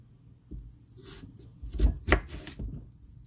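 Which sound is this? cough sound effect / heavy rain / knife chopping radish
knife chopping radish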